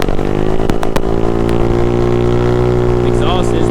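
A GY6 150cc engine swapped into an Icebear Maddog bike, its loud exhaust holding a steady, close droning idle throughout, with a few sharp clicks near the start.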